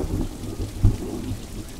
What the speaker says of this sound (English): And then it started to rain.